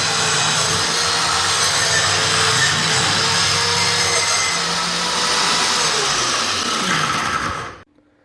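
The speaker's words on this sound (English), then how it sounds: "I've got to cut down this board all the way, both sides, so I can lever this out." A power saw cuts steadily along a wooden floorboard inside a house. The grinding, whining cut is loud and close, runs continuously for several seconds, then stops abruptly.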